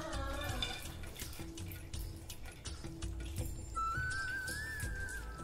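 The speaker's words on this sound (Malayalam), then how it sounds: "ആദ്യം തന്നെ ഞാൻ തേങ്ങാക്കൊത്താണ് വറുക്കാൻ പോകുന്നത്." Coconut pieces frying in a pan for an Onam date payasam give off a quiet, steady sizzle sprinkled with small crackles. A thin whistling tone rises near the end.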